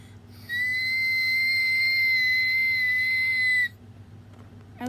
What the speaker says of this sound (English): You think that's my whistle note?